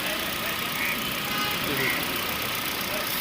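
A Hyundai Verna 1.6 engine running steadily as a continuous droning hum, with someone talking over it at close range.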